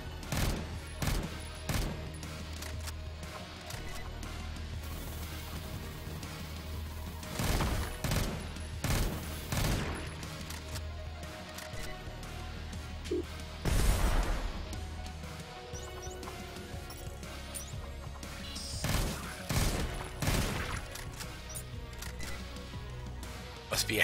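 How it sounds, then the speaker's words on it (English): Burst rifle fire in the sci-fi shooter game Neon Chrome, rapid clustered shots cracking out repeatedly over a constant electronic game backdrop, with brief quiet talk between bursts. "Yeah, go with the burst rifle."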